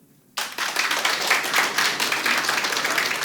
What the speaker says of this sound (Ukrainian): А поаплодуйте, будь ласка